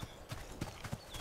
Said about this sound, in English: Come here, horse. Allow me to ride you.